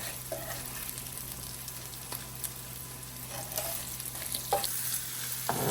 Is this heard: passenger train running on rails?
no